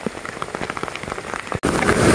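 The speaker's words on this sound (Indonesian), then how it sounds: "Oh, hujannya makin deras." Heavy rain pours steadily while hiking on Mount Gede Pangrango, a dense close hiss of drops hitting surfaces that briefly cuts out and then returns even louder and fuller.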